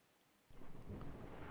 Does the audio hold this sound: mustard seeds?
no